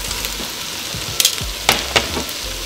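Celery hitting a hot pan of browned meat for a fall soup, a steady sizzle with a few sharp scrapes and clatters of stirring near the end.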